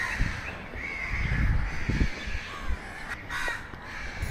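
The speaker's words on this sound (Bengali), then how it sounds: "তবে এখানে কাক এবং পাখিদের অনেক ডাক শোনা যাচ্ছে।" Crows caw repeatedly at a middle distance on the Rajshahi College grounds in daytime, harsh drawn-out calls over a rumbling outdoor background with wind-like low noise.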